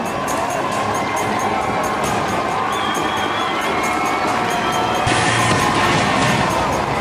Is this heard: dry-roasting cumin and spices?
no